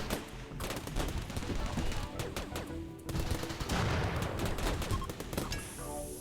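Dense automatic gunfire from an LMG and a turret in the video game RimWorld, rapid overlapping shots in continuous bursts with booming impacts throughout, loud and busy from start to end.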